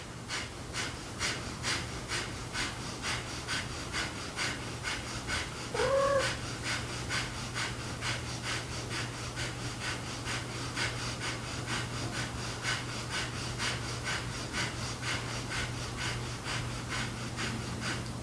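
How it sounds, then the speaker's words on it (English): Forceful yoga breathing in a power yoga session: rapid, rhythmic sharp exhales through the nose repeat steadily and close up, with a brief vocal gasp midway and a low constant hum underneath. "Inhale all the way. Exhale out the mouth."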